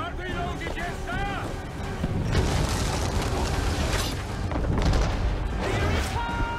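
Ship cannon fire during a naval battle in Assassin's Creed 3: deep rumbling booms and bursts roll in close and loud over constant battle noise, while voices shout through the din.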